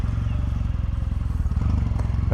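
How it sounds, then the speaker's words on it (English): A 2026 Kawasaki W800 motorcycle pulls away, its exhaust giving a loud, close, rhythmic low thumping that builds steadily under some wind noise. "I like the sound of that exhaust."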